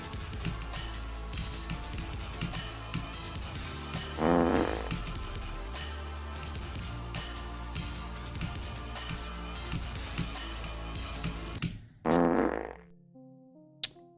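Fart sound alert played on a Twitch stream, a loud, low, rumbling blast heard twice over steady background music, the second burst near the end.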